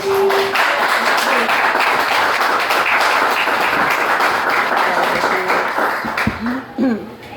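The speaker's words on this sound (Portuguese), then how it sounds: "Então aplauda o Senhor Jesus essa noite." A church congregation applauds during an evening worship service, dense sustained clapping filling the space loudly and evenly before tapering off near the end, with a few voices rising over it.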